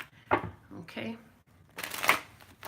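Tarot cards are shuffled close up in two quick riffling bursts with a short pause between, and a voice speaks briefly near the start.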